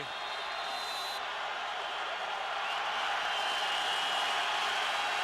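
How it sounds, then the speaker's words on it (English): A CFL football stadium crowd roars as the Edmonton Eskimos host the Calgary Stampeders, a dense, sustained wash of distant cheering that swells slightly, with a commentator's voice talking over it. "Listen to that crowd."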